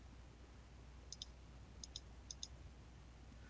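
Computer mouse left-clicks while tracing a polygon boundary in GIS software: three quick pairs of faint, sharp clicks, evenly spaced, over a quiet room hum with no talking.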